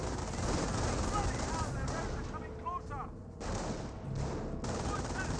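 Garrisoned troops fire from the windows of a house in Company of Heroes, a British versus Panzer Elite match, with dense overlapping rifle and machine-gun fire and distant booms rolling on continuously, briefly thinning once midway.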